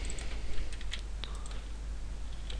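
Quick typing on a computer keyboard: a handful of light, scattered key clicks, close and clear over a steady low electrical hum, with no speech.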